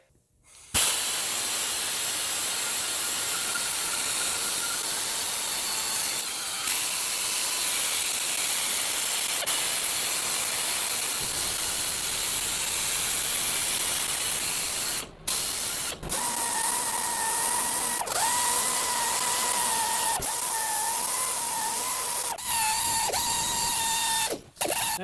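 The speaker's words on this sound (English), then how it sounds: "Grind away!" A power grinder scours rust off the wheel hub of a 2016 Subaru Impreza, a loud sustained abrasive hiss running for over twenty seconds, broken by brief pauses and rising pitch whines as the tool loads up.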